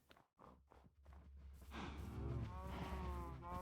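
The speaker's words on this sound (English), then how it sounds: "Yes, we got a lot of cows over here." Cows moo in the Minecraft video game, several low drawn-out bovine calls building up loud and close after a few soft footsteps.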